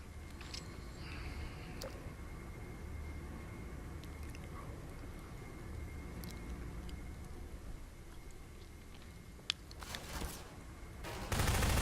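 Gunfire striking the player in Half-Life 2, repeated shots and impact hits mixed into a busy, constant game soundscape with a louder burst near the end.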